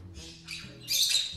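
Harsh, shrill bird squawks in short bursts, the last one louder and higher, close to the listener.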